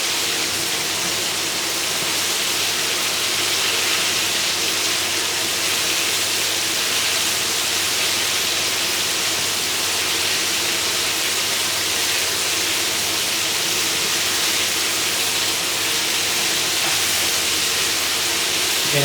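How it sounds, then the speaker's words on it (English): Garlic fried chicken bubbling in hot oil around 160 degrees, a dense, steady hiss and sizzle with no pauses, close and even throughout. "You can hear all that bubbling sound, it's the water content."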